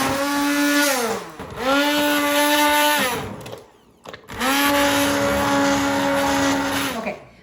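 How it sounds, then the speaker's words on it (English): A handheld immersion blender purees potato soup in a pot with a loud, steady whir that rises and falls in pitch. Two long blending bursts are separated by a brief pause, and there is no talking. "I'm gonna use an immersion blender."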